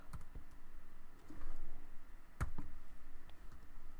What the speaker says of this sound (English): if I hit the meta command key and type